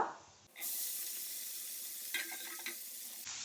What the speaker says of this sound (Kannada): ಈಗ ನಾವು ಇದಕ್ಕೆ ಈ ಕಾರ್ನ್ ಆ್ಯಡ್ ಮಾಡುವ